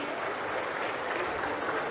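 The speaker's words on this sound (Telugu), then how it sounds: "గట్టిగా చప్పట్లు కొట్టి అభినందించండి." A large crowd at a Chittoor public meeting bursts into steady applause, a dense continuous wash of clapping sustained at even loudness throughout.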